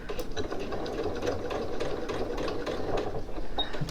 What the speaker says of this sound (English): I'll take out that pin, drop my needle, and I'm going to reverse stitch